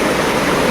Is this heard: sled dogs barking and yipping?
no